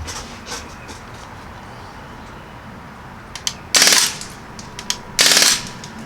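A Crosman R1 air rifle firing on full auto, two loud rapid bursts of about half a second each, separated by a pause, with softer clicks and handling noise around them.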